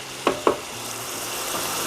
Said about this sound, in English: our tomato ketchup, our oyster sauce on a low heat, mix that in